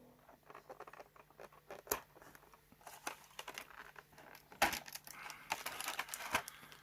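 Close rustling and crinkling of plastic packaging as a Planet Green Valley buck action figure is unwrapped, with irregular small crackles and taps that grow sharper and louder toward the end.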